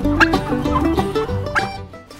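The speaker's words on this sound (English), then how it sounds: "This allows the turkeys to roam free and graze naturally." Turkeys on a free-range farm gobble in overlapping bursts, a lively flock calling close by and fairly loud with no talk over it.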